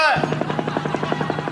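A voice imitates a helicopter, making a loud, close, rapid rhythmic chopping buzz over a steady low drone for about a second and a half.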